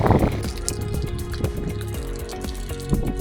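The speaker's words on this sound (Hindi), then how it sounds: "ये देखिए प्योर नेचुरल माउंटेन वाटर," Pure natural mountain water flowing at a hilltop camping spot, a loud close splashing and trickling stream with dense drips and gurgles and no talk.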